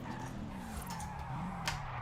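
Tires skid and squeal as a non-drift road car slides sideways in Forza Horizon 5, a continuous smeared screech over the engine drone, steady and moderately loud with no talking.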